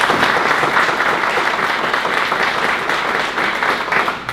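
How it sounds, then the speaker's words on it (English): Dense, steady applause from a crowd at a military breakfast ceremony, many hands clapping continuously at close range without a break. "If you can give a round of applause to Anthony Mirabelli"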